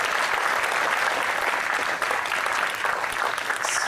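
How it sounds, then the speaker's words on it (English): Alumni reunion banquet crowd applauding outstanding graduates, a continuous, fairly loud patter of many hands clapping at a steady level throughout. "Let's give another round of applause to our 2018 class of outstanding"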